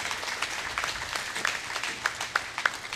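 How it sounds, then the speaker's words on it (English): Scattered audience applause at a junior fair sheep show, with loose, uneven claps and a few sharper single claps standing out toward the end, moderately distant. "let's start off by giving these 10 individuals a big round of applause"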